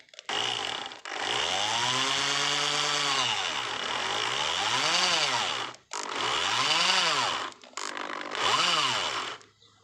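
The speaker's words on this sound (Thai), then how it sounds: "สว่านเจาะเหมือนเดิมนะครับ ตัวนี้จะเล็กกว่าเล็กกว่า ตัวมิเตอร์นะครับ" Electric drill boring a hole through a plastic meter enclosure box, a loud whining motor run with pitch sweeps, cutting out near six seconds and then coming back in two shorter bursts.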